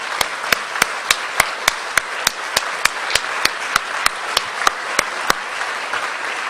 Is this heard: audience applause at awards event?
yes